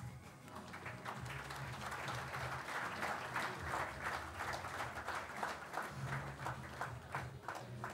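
An audience at a corporate employee anniversary event applauds in a sustained, even patter of many hands clapping at moderate volume.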